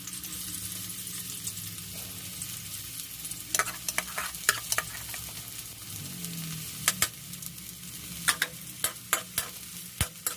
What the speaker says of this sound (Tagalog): Igisa lang natin siya hanggang sa lumambot.